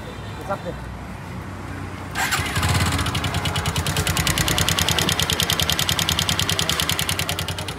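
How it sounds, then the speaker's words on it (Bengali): A used secondhand motorcycle with a noted engine fault is kicked over and starts after about two seconds, then runs at a fast, steady, close idle with a rhythmic pulsing beat; a voice briefly speaks before it starts. "এই গাড়িটা একটু স্টার্ট দাও তো।"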